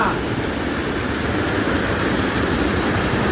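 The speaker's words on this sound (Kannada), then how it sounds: "ಇಲ್ಲೊಂದು ಸಣ್ಣ ಜಲಪಾತ ಇದೆ ಇಲ್ಲಿ ಬಂದಿದ್ದೀವಿ" A small waterfall fed by hillside streams pours steadily, a dense, even roar of falling water heard up close with no break.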